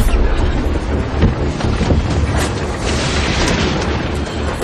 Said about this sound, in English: Blowing a gale out there.